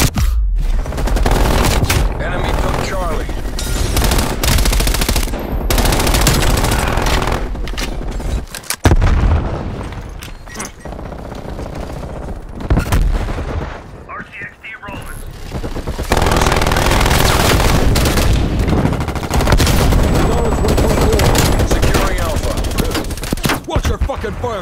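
Sustained machine gun fire in the video game Call of Duty: Black Ops Cold War, loud dense bursts of rapid shots and booms with brief pauses, continuing almost throughout with game voices mixed in.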